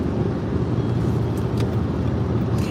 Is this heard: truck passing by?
yes